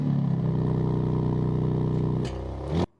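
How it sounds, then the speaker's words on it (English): A car engine with a steady, droning exhaust note holds for about two seconds, then the tone shifts as the valves close during a rev, ending in an abrupt cutoff. "As soon as he revved it, the valves closed."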